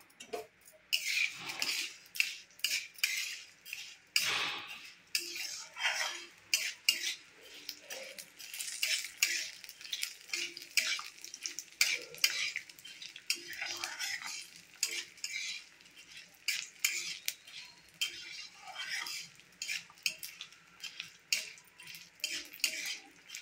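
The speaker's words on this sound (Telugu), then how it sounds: "నూనె కాగాక ముందు కందిపప్పు వేయించుకున్నాను." Toor dal frying in hot oil in a home kitchen, a light crackling sizzle under irregular scraping and clinking as a spoon stirs the lentils against the pan, fairly close and continuous, with no voices.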